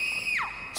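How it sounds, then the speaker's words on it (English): A sudden scream from a character in the horror video game Outlast 2, a single sharp shriek that bends downward in pitch, brief and close, with a bright burst at the very end. "Screaming."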